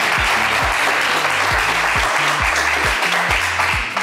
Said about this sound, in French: Vous applaudissez, hein?